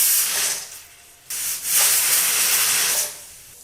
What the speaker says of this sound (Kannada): ಈಗ ಇಲ್ಲಿ ಕುಕ್ಕರು 2 ವಿಸಲ್ ಬಂದಾಯಿತು.